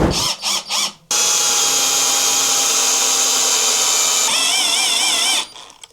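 A power drill whirs steadily at close range into wall tiles for several seconds after a few short bursts, its pitch wavering near the end as the bit sticks before cutting off.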